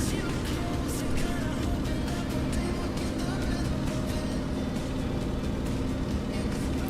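Propeller aircraft engines from Microsoft Flight Simulator drone in a loud, steady low rumble that fills the whole stretch, with music layered faintly over the top.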